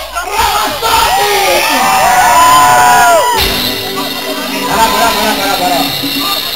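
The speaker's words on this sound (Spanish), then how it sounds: "¡Hay aplausos, hay aplausos!" A comedy show audience in Dallas cheers, shouts and whoops as a loud, continuous crowd roar that swells in the middle and keeps going to the end, with voices mixed in.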